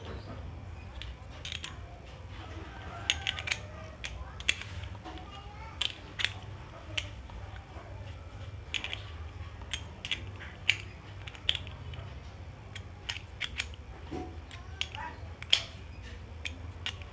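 Small metallic clicks, scrapes and ratcheting taps come from tightening a bolt on a homemade kerosene lamp built from a used bottle. They are scattered irregularly, close and fairly quiet over a low background hum.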